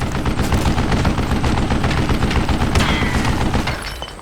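Mounted machine gun rattles in a sustained, dense burst of rapid automatic fire in the Western shooter Call of Juarez: Gunslinger, set in Mexico, loud and continuous before tapering off near the end.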